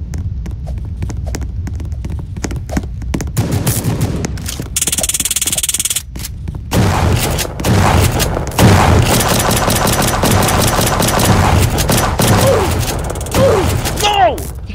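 Gunfire in the Roblox game Prison Life, with bursts of rapid shots and sharp cracks scattered across a busy, loud game soundscape while a person talks over it.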